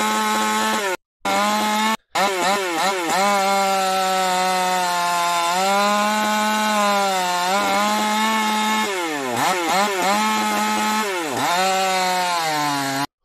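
A saw cuts through wood in footage played back at high speed, giving a loud, continuous high-pitched whine whose pitch repeatedly dips and recovers, with two brief dropouts near the start and no talking.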